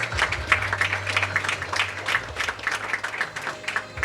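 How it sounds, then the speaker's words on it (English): Applause for sponsors at a press conference for the 75th Liberation Day celebration on Guam: a modest round of clapping from a small audience, fairly steady and close, running through the whole stretch. "Ladies and gentlemen, please, a round of applause for our 13 fine sponsors."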